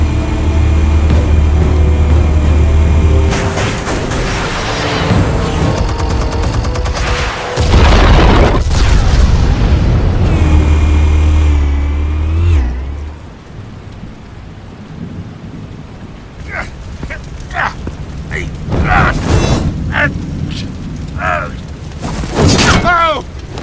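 Explosives detonate in the Batman Telltale Series video game, producing heavy booming rumbles that swell and fade. Scattered crashes and thuds follow as the noise dies down, and voices speak over parts of it.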